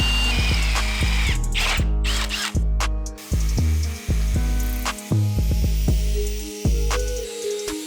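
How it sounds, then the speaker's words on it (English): A power drill bores into the metal of a 1955 Chevy barn-find truck, whining loudly up close in repeated bursts separated by short pauses as the bit bites and releases. "So now just drill in the middle of that"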